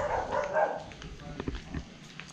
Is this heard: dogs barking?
yes